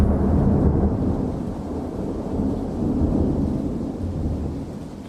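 Rumbling thunder during a thunderstorm with rain, a low continuous roll that swells and eases over several seconds, moderately loud and without speech.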